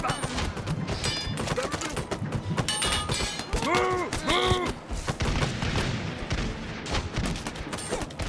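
Video game gunfire in Totally Accurate Battle Simulator, a dense run of sharp shots and bursts amid other battle noise, loud and continuous, with a voice talking over it.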